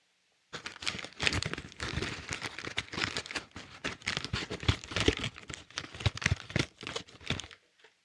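Dense, crisp crinkling goes on steadily for several seconds, close and alone, with quick crackly taps layered throughout and no voices.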